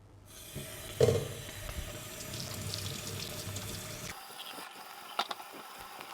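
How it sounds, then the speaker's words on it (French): Fruit rinsed under a steady stream of kitchen tap water, a continuous close splashing rush with a brief knock near the start, cutting off after about four seconds to leave faint handling clicks. "je vais les rincer abondamment sous un filet d'eau claire"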